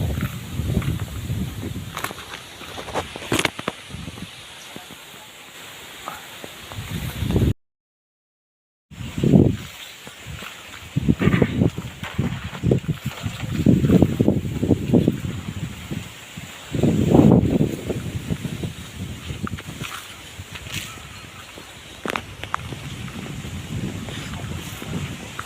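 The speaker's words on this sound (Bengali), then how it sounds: "আজকের ওয়েদারে প্রচণ্ড ঠান্ডা হাওয়া হচ্ছে" Strong, cold gusty wind on a rainy day along a narrow village embankment, buffeting the microphone with a continuous loud rumbling roar that surges and eases, broken by one brief silent gap.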